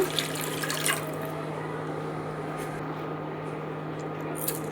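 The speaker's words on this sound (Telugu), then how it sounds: "బాగా మగ్గిన తర్వాత వాటర్ అయితే వేస్తూ ఉన్నారు" Water poured steadily into a pan of semiya upma on the stove, a continuous close hiss and trickle with a low steady hum beneath, no talking.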